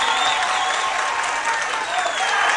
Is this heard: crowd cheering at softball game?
yes